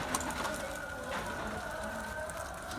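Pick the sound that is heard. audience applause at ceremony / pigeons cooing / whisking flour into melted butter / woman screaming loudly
pigeons cooing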